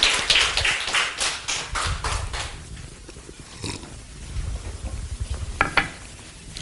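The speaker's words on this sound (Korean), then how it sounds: "하나님께 영광의 박수 올려드리겠습니다." A church congregation claps together, with dense, crackling applause loudest at the start, then thinning into scattered, softer clapping before a few sharper claps near the end.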